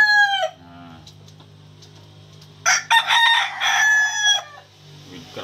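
A Talisayon broodcock rooster with a crown and white feet crows twice, loud and close. A short crow opens, then after a pause a longer full crow rings out, with low farmyard noise underneath.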